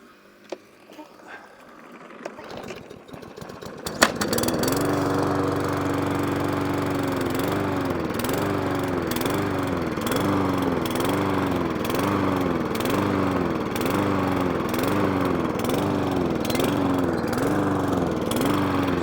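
A small lawn mower engine, just after a carburetor clean, sputters and catches after a few seconds of handling noise, then runs loud and close with a steady hunting surge, revving up and down in a regular cycle.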